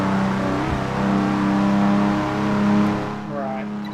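Race car engine drones steadily in the Test Drive Unlimited 2 racing game, a sustained tonal whine that dips as the car brakes for a tight corner, then climbs again, with a brief thud and faint talk underneath.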